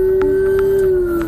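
A puppy howls in one long, steady, sustained note from close by, heard alone with no talk. It was recorded amid police radio traffic during a patrol shift.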